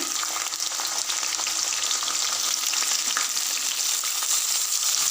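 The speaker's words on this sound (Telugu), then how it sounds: "ఒక మూడు స్పూన్ల ఆయిల్ పోసుకొని జీలకర్ర ఆవాలు శనగపప్పు తాలింపు గింజలు వేయాలి ఇప్పుడు ఉల్లిపాయ" Chopped onion with cumin, mustard seeds and chana dal sizzles in about three spoons of hot oil in a kadai, a loud, continuous crackling fry with no voices.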